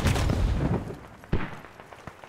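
Heavy machine gun fire in the military shooter Squad, a dense burst of loud gunfire at the start followed by a few scattered sharper shots, fairly close.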